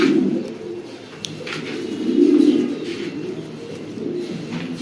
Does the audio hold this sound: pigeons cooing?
yes